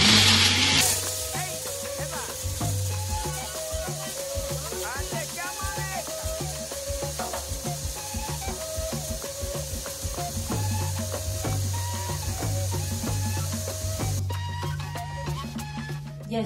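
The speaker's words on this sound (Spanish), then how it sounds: "Esto más o menos dura en la licuadora 2 minutos para que el coco se logre triturar bien." An electric blender whirs continuously as it blends coconut with warm water, a loud, busy motor drone with rattling texture that cuts off near the end.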